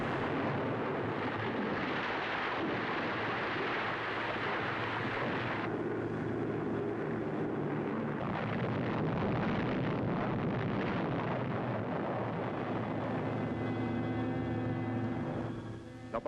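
Atomic bomb explosion over Nagasaki in archival film: a dense, unbroken roaring rumble that fills the whole stretch at steady loudness, with no voices.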